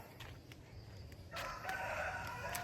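A rooster crows nearby against a quiet outdoor farm background, with a few faint chirps before it.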